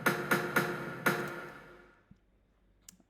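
Drum notes from a Noteflight rhythm piece play back faintly, four hits in a short call-and-response pattern that ring out and fade into near silence, with a tiny tick at the end.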